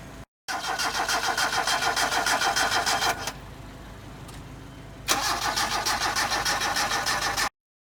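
A Toyota KE70 fitted with new electronic ignition cranks and fires into a loud, steady idle close up, drops to a quieter murmur, then surges back up before cutting off abruptly.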